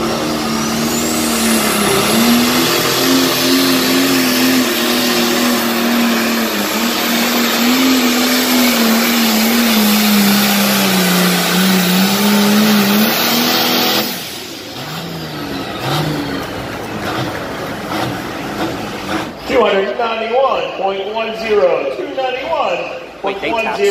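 Roaring engine of the International pulling tractor Red Stallion at a fair tractor pull, loud sustained high-revving howl for about fourteen seconds before cutting back, with an announcer talking over the following crowd noise.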